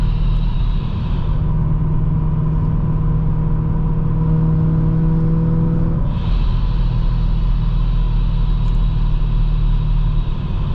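A procharged BMW M3 cruises at steady, moderate pace, its engine and exhaust a continuous low drone with an even hum that shifts slightly around midway, no voices present.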